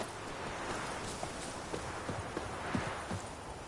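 Roach the horse's hooves clip-clop at a steady walking pace in The Witcher 3, with repeated soft thuds sitting under a constant outdoor ambient bed.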